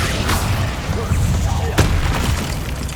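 Incendio fire spell cast in Hogwarts Legacy, a loud whooshing burst that roars through the clip under continuous game sound, with a sharper flare near the middle.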